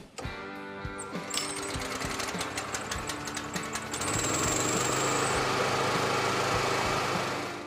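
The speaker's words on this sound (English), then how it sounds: "Get quiet, reliable performance from the Honda GX390 engine." A hot-water pressure washer with a Honda GX390 engine and direct-drive pump running close by, a rapid knocking engine rhythm that swells into a louder, steady roar partway through.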